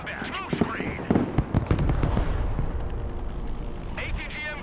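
In the modern warfare strategy game Broken Arrow, smoke screen launchers on an armored vehicle fire a rapid cluster of sharp pops amid loud battle noise, with radio voice chatter around them.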